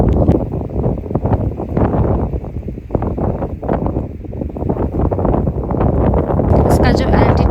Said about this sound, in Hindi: यहाँ आने के बाद में बहुत तेज हवा चल रही है